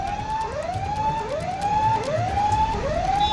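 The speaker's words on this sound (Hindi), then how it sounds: "ये सुन पा रहे होंगे आप साफ तौर पर फायर ब्रिगेड की आवाज" Fire engine sirens wailing at a hotel fire in Chembur, Mumbai, a repeating rising-and-falling siren cycle heard steadily over street noise, moderately loud and not far off.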